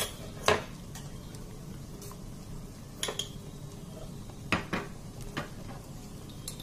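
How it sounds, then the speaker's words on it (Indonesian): A spoon stirs tempoyak patin fish curry in a pot, giving a handful of scattered metallic clinks and scrapes against a steady low background hiss. "aduk supaya bumbunya merata"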